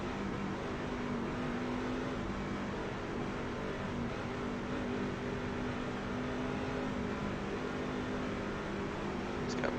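A race car engine in the iRacing sim at Phoenix, held at a steady, loud drone with strong low harmonics for the full stretch around a first-gear start, with no clear rise in revs.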